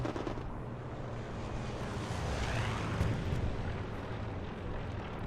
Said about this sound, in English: as here comes a strafing run